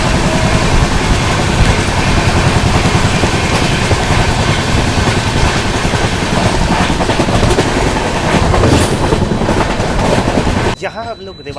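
The Sealdah Bikaner Duronto Express runs on rails near Rewari Junction, heard from inside a second AC coach as a loud, continuous rumble with rhythmic clatter that drops off abruptly near the end.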